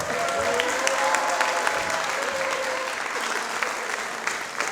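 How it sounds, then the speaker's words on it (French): Studio audience applause on a French television show, dense and sustained for about five seconds at a steady, loud level with no voices over it. "On va les applaudir, public."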